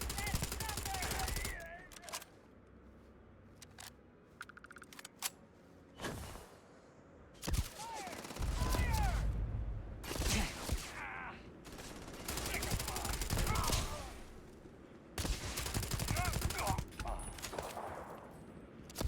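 Bursts of automatic gunfire in Starfield come in several loud volleys with quieter gaps between them, and a voice talks over parts of the shooting.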